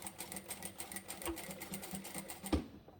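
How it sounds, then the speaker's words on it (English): A sewing machine back stitches across the end of a seam on a fully lined child's tote book bag, its steady rapid needle chatter running for about two and a half seconds before a short thump as it stops. "when you get to the last pin or clip, we just want to back stitch"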